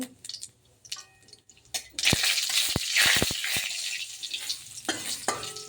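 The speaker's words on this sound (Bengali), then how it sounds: "তেল গরম হয়ে গেছে, দিয়ে দেবো আমি তেজপাতা। একটা তেজপাতা চিড়ে দিয়ে দিয়েছি, দিয়ে দেবো জিরে ফোড়ন।" Cumin seeds and a torn bay leaf hit hot oil in a pan, bursting into loud crackling sizzle after a quiet start, with sharp pops and spatula scrapes as the tempering is stirred; no voices.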